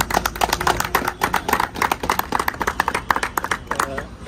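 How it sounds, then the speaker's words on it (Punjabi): A crowd at a World Motorcycle Day event clapping, a dense, irregular patter of hand claps with voices mixed in underneath. "ਇੱਕ ਵਾਰ ਤੁਮ ਕੇ ਲਈ ਜ਼ੋਰਦਾਰ ਤਾਲੀਆਂ"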